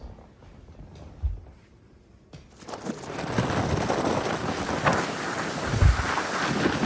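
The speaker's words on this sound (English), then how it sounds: "It's a little windy here." Gusty wind roars against the microphone outdoors in Wasilla, Alaska, in cold December weather, starting faint with a few thumps, then building into a strong, steady rushing blast.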